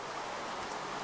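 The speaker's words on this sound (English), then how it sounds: "I love the rain." Minecraft rain falls as a steady, even hiss of drops with no breaks or voices, lasting only about a second.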